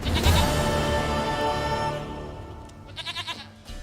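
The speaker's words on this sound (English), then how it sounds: "Goat of mine, dearest, sweetest goat." A goat in The Witcher 3 lets out a loud, close, wavering bleat that trails off, followed by a short burst of quick, stuttering bleats.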